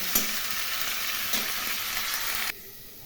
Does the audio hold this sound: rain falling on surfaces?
no